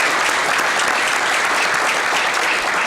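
Steady, dense audience applause at a Las Vegas City Council ceremonial honoring Pat, continuous clapping from a crowd throughout with no talk.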